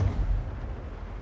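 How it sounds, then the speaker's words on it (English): A deep, muffled thunk of the power going out in the video game Project Zomboid, with a low rumbling decay that fades out over about a second, with no talking. "Like a weird thunking. Oh, that was the power going out."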